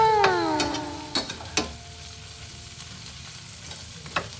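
Food fries and gets stirred in a pan with a soft, steady sizzle and a few sharp utensil clinks, opened by a brief wavering high tone that slides downward.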